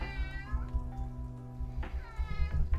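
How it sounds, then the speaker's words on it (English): Tex the house cat meows at length, loud and close, a drawn-out cry followed by a second meow, with no talking over it. "Tex meows a lot."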